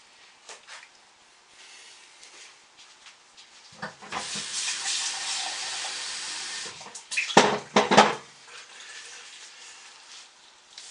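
Lye water solution containing Tussah silk fibers is slowly poured into oils for soap making, making a soft liquid stream that runs for several seconds, followed by a few louder splashy pours and clinks before quieting.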